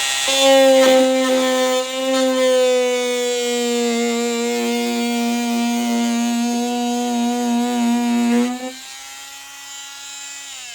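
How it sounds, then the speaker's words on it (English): A Dremel multi-tool trims a slot in a vinyl fence panel, a loud, steady high-pitched motor whine with a strong tone that holds and then winds down near the end. "I just finished trimming out the slot. I used my Dremel multi-tool."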